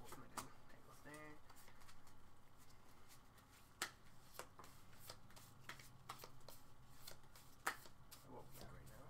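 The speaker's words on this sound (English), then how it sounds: "let me shuffle the two cards in my hand" Yu-Gi-Oh cards are shuffled in hand, a run of quick crisp riffling snaps and taps spread across the stretch at close range, with quiet room noise underneath.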